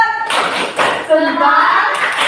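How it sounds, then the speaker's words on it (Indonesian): Schoolchildren in a classroom perform a 'tepuk salut' clapping salute, with short bursts of hand claps mixed with chanted voices, loud and close. "Dari tepuk salut untuk Mbak Mila. Tepuk salut"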